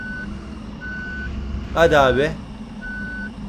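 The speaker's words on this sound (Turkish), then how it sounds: "Geri mi sokacağız acaba otobüsü?" A bus reversing in Bus Simulator Ultimate emits steady, evenly spaced electronic warning beeps, interrupted briefly by someone speaking.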